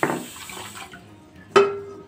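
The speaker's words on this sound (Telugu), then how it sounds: "ఒక కప్పు వాటర్ పోసుకుందాం." Water poured into sugar in a pot to make syrup, a short splash at the start and a second brief pouring burst near the end, close and clear.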